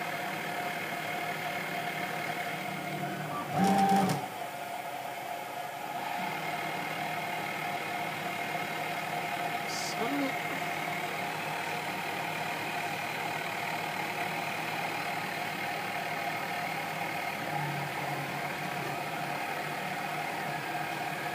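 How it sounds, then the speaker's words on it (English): A Sieg KX3 mill cutting a logo gives a steady, moderately loud whine from its table stepper motors over a continuous machine hum, with a brief louder burst early on and otherwise unchanging tone. "The whining noise you can hear incidentally is the stepper motors which drive the table from side to side and fore back"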